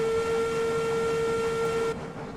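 A steam locomotive whistle in the Railroads Online train game, one steady loud blast held for about two seconds over rumbling train noise, then cut off.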